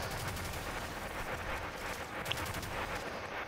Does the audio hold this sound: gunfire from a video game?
yes